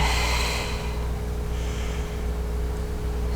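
Breathing during a hip physical therapy exercise, a loud breathy exhale at the start followed by a softer breath midway, close over a constant low hum.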